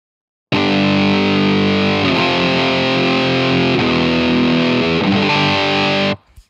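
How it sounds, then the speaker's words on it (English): A heavily distorted electric guitar, played through the ToneStack Pro amp simulator app, rings out in sustained, saturated chords. Each chord holds loud for about a second before the next one starts, and the tone cuts off abruptly near the end. "in this version, the distortions are way better"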